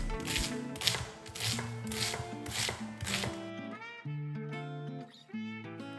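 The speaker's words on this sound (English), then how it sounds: "Now cut a bit into slices, about 200 grams." A sharp knife slices through cabbage in quick, rhythmic strokes over background music; the chopping is dense for the first few seconds, then stops while the music carries on alone.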